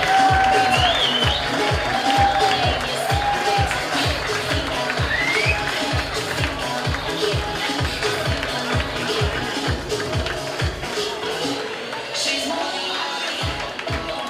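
Audience at an Italian beauty pageant final claps steadily and rhythmically with cheering in a crowded venue, loud and continuous, while a presenter's voice carries over the top.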